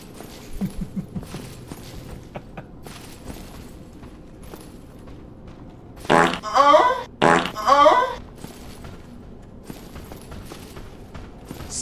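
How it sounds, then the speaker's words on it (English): A person's fart: two short, loud, close bursts in quick succession, each with a sputtering, rippling quality, heard against a quiet room background with faint scattered noises. "I farted."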